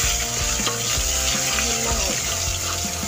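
Garlic paste fries in hot oil with whole spices such as cinnamon, cloves, caraway and cardamom, giving a loud, steady, close sizzle. Soft stirring and scraping sounds run through it, and there is no talking.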